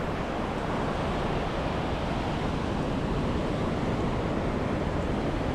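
Ocean waves at Coronado Beach in San Diego, California, make a steady, dense roar of surf with wind noise on the microphone and no pauses.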